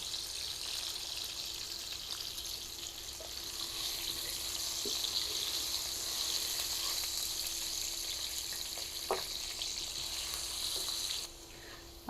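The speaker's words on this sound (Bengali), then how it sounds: "আলুগুলো আমি ভেজে নিয়েছি।" Potatoes frying in a pan, a soft continuous sizzle with a steady hum beneath and a few faint clicks of utensils, dropping slightly near the end.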